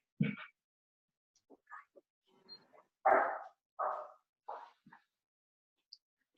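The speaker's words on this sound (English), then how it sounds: "my dog is barking" A few short, muffled barks from a dog somewhere off in the distance, scattered irregularly across an otherwise quiet stretch.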